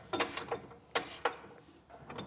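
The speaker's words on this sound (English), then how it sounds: "And we'll tighten each of these down." A wrench ratchets bolts tight on a Demco Autoslide 5th wheel hitch inside the cramped bed of a 2025 GMC Sierra, giving a few close, sharp mechanical clicks and bursts spaced over a couple of seconds.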